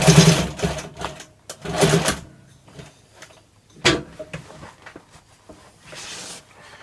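A sewing machine stitching a first aid pouch runs in several loud bursts of rapid mechanical whirring, separated by pauses with soft clicks and handling of the fabric, no speech.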